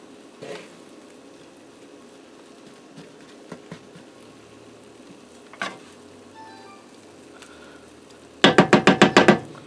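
Cheese being stirred into a sausage and potato skillet, a low sizzle with scattered scrapes and knocks of the utensil, ending in a quick burst of several sharp taps against the pan.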